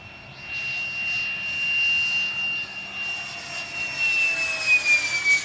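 A Saab JAS-39 Gripen fighter jet in flight, its engine a loud, sustained roar with a high whistling whine that slowly bends in pitch as the aircraft passes in the distance.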